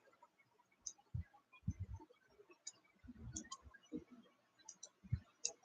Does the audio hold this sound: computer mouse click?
yes